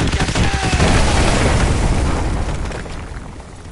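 A heavy artillery strike lands in Call of Duty Modern Warfare, a loud booming blast with crackling debris that rumbles on and gradually fades.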